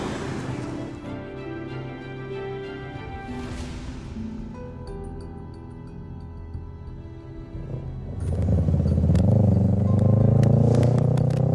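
A motorcycle engine hums and rumbles steadily, then swells louder and rougher toward the end as it rides closer, with faint background clatter.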